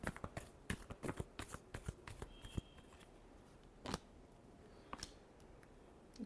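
Tarot cards shuffled by hand, a quick series of soft close riffling snaps and taps followed by a few isolated flicks, faint and without talk.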